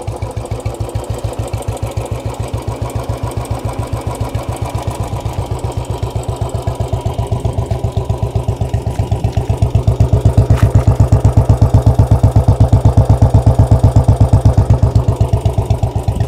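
A Royal Enfield Bullet 350 single-cylinder engine with a 10 kg crank idles with a steady, heavy thumping beat, close and loud, growing slightly stronger partway through.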